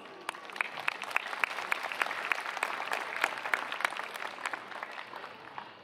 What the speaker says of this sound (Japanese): 温かいご声援、そして拍手、